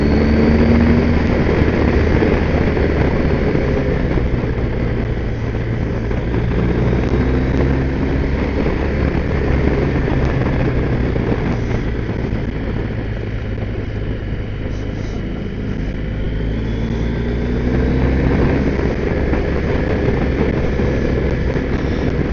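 A fully loaded motorcycle carrying fuel cans and gear rides steadily, giving a constant loud engine drone mixed with heavy wind rumble and no talk.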